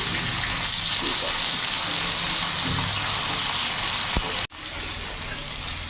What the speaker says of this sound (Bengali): মাছটা এক সাইডটা ভাজা হয়ে গেছে আমি এবার উল্টিয়ে দেবো